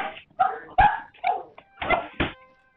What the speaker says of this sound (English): Dogs like to bark at the wind